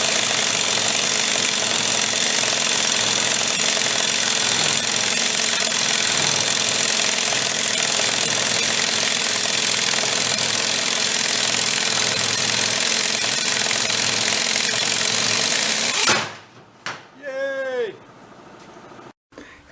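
A Terramite machine's engine runs hard with a thrown rod, a loud, rapid, relentless mechanical knocking that hammers on steadily for a long stretch before cutting off abruptly, followed by quieter faint sounds.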